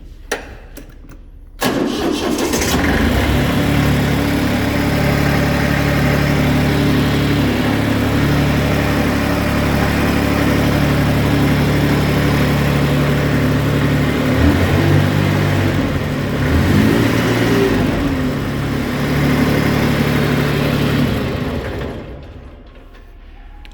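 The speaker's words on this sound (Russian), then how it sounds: "Давайте запустим трактор." After a brief crank, the small diesel engine of a Hinomoto C174 mini tractor, started indoors, catches and settles into a loud, steady chugging idle, with slight changes in pitch before cutting off.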